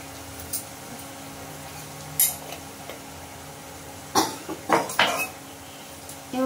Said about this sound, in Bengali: কষে নেব মশলাটা।